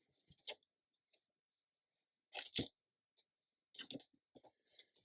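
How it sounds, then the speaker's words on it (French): Adhesive tape peeled off a sheet of paper during paper bag folding, a few quiet brief tearing and crackling bursts, one louder strip pull in the middle, separated by near silence. "Heureusement, le scotch, ça s'enlève bien."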